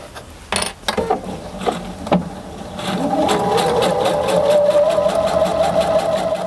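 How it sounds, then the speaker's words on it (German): A sewing machine stitches around a messenger bag flap with a 1 cm seam allowance, starting with a few short bursts and clicks and then settling into a steady, close, rising whir of continuous stitching. "mit 1 cm Nahtzugabe einmal ganz drumherum nähen"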